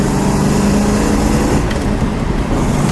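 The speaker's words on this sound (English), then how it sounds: "This car runs really strong." A 1963 Buick Wildcat's 401 engine runs steadily close by, a loud low rumble that holds an even idle throughout.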